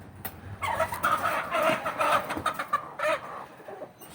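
A bantam hen clucks close by in a steady run of short, repeated clucks, fairly loud, with faint background noise and no talking.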